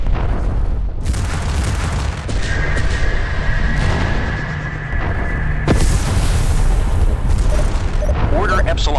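In the space-combat game Freespace 2, a destroyed target blows up with loud, deep booms. Heavy rumbling blasts roll on continuously, a steady electronic tone sits over the middle, and fresh bursts strike near the start and again past halfway.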